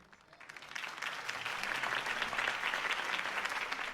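A campaign rally crowd applauds after a speech, the clapping swelling from a lighter start into sustained, dense applause that holds steady to the end.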